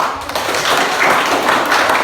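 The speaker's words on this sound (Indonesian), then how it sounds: "Tepukan yang paling keras" Students applauding loudly in a classroom, a dense burst of clapping that runs evenly for about two seconds with no talk over it.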